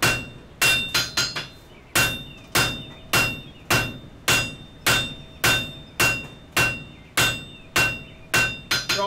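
Steady, loud, ringing hammer blows on a piece of coil spring being drawn down at the forge, about fifteen strikes in an even rhythm with a few quick double taps.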